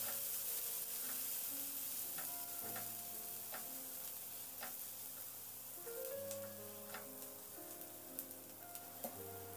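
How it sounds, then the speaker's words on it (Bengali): Chopped onion frying in a pan with cumin, a steady sizzle running throughout with scattered crackles and occasional stirring scrapes, no voices. "এবার পেঁয়াজটাকে দিয়ে মিনিট 2-3 নাড়াচাড়া করে বেশ লালচে করে একটু ভেজে নেব।"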